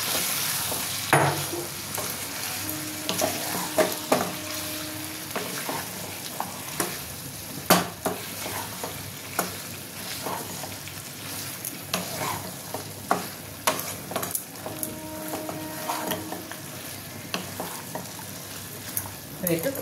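Mutton being stir-fried for kosha in a pan with chui jhal, a steady close sizzle broken by repeated scraping and clattering strokes of the spatula, with no talking.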